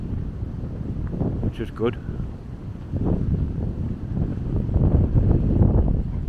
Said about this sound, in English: Probably hear the wind there on the mic. It's just like kind of gusty.